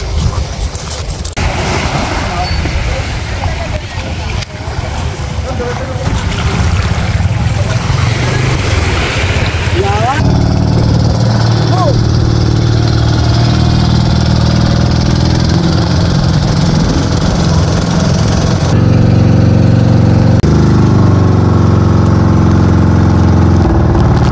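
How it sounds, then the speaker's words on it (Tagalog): A motorboat engine drones steadily throughout, loud and close, with its pitch shifting partway through and splashing water around it, on a boat ride to a beach. "Sakay na kami ng bangka."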